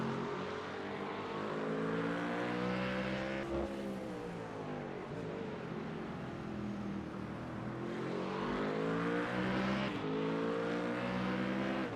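A Mustang GT3 race car in a sim racing game at COTA, its engine rising and falling through the revs in sweeping pulls with gear changes, loud and continuous.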